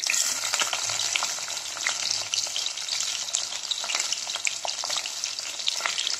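Two large sliced onions sizzle in hot oil for a Dindigul-style chicken biryani, a dense, steady crackle with frequent sharp pops that stays close and continuous with no voices.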